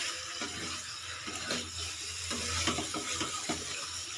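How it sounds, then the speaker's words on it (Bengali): Bengali sukto vegetables being stirred in a pan, giving close, steady scraping and soft sizzling with intermittent louder strokes, no talk. "দিয়ে এবার একটু নাড়িয়ে নিয়ে জল দিয়ে দেব।"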